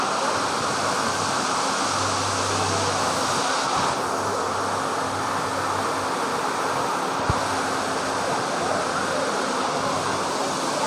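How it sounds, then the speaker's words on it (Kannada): Water pours steadily from a fountain at Kudroli temple in Mangaluru, a loud continuous broadband rush with a faint low hum underneath and one brief knock partway through. "ಸಖತ್ ನೀರು ಬೀಳ್ತಾ ಇದೆ"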